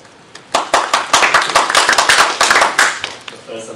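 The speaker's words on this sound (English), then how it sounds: "The first applause." A small audience at a software testing talk gives a short burst of clapping, irregular hand claps building to a steady patter for about three seconds before thinning out, fairly close and alone without talk.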